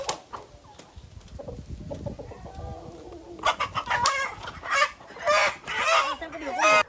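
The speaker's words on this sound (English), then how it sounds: "Dad helps the trader by putting each chicken into the cage." Chickens clucking and squawking on a farm as they are caught and put into a cage by hand, scattered calls that grow louder and busier toward the end, with faint talk in the background.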